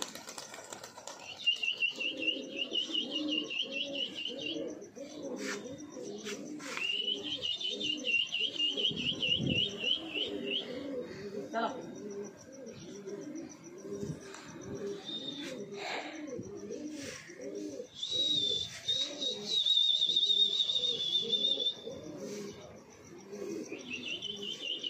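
Pigeons coo in a steady, throaty chorus close by while high chirps and bursts of wing flapping break through again and again over about twenty-five seconds.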